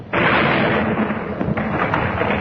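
A gunshot and a bomb explosion at the same moment: a sudden loud blast erupts and rumbles on, with a couple of sharper cracks inside the roar before it fades slightly.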